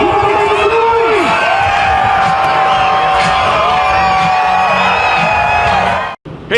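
A crowd at a Lake Erie all-star event cheers, whoops and screams loudly and continuously, with shouted voices rising above the roar before a brief dropout near the end.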